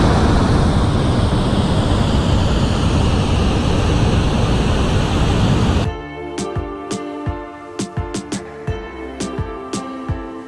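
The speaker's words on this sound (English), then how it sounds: "Listen to the natural sound of waterfall." A loud, steady roar of rushing, falling water from a waterfall at Fenelon Falls, Ontario, fills the first six seconds, then cuts off abruptly, leaving scattered quieter clicks and knocks.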